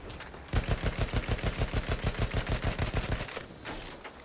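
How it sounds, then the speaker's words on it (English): Gunfire in the video game Battlefield 1, a rapid even string of about twenty sharp thumping shots over three seconds, loud and close, then fading into ambient noise, with no voice over it. "Oh, that's the sniper shooting me."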